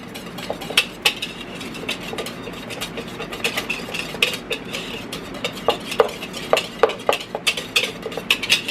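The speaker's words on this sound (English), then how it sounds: "Now, let's whisk all this together." A whisk beats lime pound cake batter with bourbon in a bowl, making steady close clinks and taps against the bowl over a low background hum.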